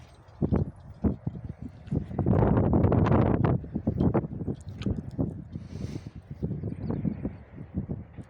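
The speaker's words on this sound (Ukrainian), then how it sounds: "Вітер на вулиці капець." Strong gusty wind buffets the microphone outdoors in a field where horses are harrowing, roaring loudest midway, with irregular thumps and rustling throughout.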